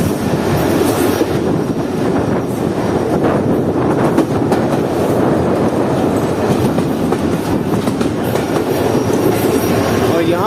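An express train pulls into Dhabeji railway station on the main platform, its wheels clattering and rumbling loudly and continuously throughout, with some squealing from the rail cars as it approaches.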